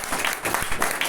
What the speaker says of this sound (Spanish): Dar un aplauso al Señor